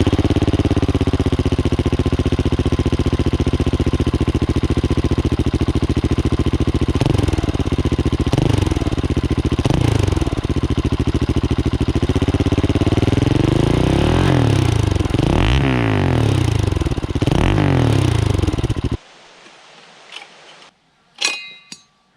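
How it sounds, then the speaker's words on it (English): A Husqvarna 701 motorcycle fitted with a new slip-on muffler with its full baffle runs steadily at a loud idle, then revs in several sharp throttle blips before the engine cuts out and a few clicks follow. "And now the new pipe with the complete baffle."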